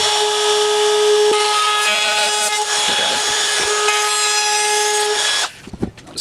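A router cuts wood around the screws of a cigar box guitar, a loud, sustained high-pitched whine with rough grinding that runs for about five seconds before cutting off, leaving a few quiet knocks.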